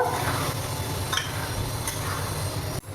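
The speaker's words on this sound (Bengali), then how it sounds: "এটাকে ভালো করে কষিয়ে নেব" Masala with sugar stir-fries in a pan for chilli chicken, a steady, close sizzle with rubbing stirring strokes that cuts off abruptly near the end.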